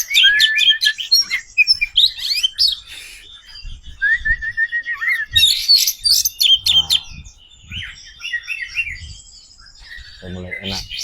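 An oriental magpie-robin (kacer) sings close by, a loud string of varied whistles, chirps and trills with brief pauses, while a person talks quietly underneath.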